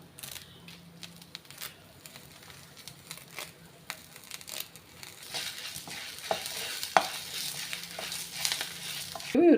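Dried red chillies and curry leaves fry in oil for a paruppu thuvaiyal, a soft sizzle with crisp crackles and spatula stirs, growing louder and busier toward the end.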